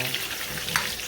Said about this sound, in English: you're gonna let your onion, your seasoning cook a little bit